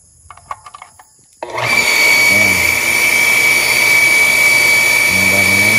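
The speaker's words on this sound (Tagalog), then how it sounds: "Pantarin natin yung makina." A machine switches on abruptly after a few quiet clicks and settles into a loud, steady whirring drone with a high whine that holds on to the end, running close by after its valve is opened.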